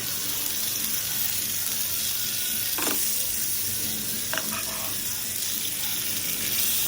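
Surmai fish frying in a pan gives a continuous, moderately faint sizzle with a broad hiss, broken by two brief clinks or scrapes partway through, in a restaurant setting.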